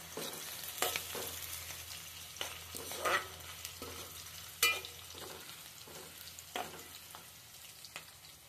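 Onion fries over lowered heat in a pan for a chicken curry, a soft steady sizzle broken by repeated spatula knocks and stirring scrapes at irregular intervals.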